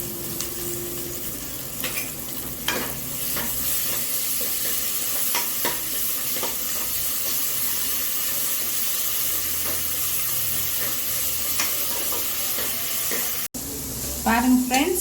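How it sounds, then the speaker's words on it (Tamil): Ginger garlic paste frying in a pan for a road-side spicy salna, giving a continuous close sizzle broken by regular spatula stirs and scrapes, with no voices over it. "நல்லா இஞ்சி பூண்டு வதங்கிடுச்சு"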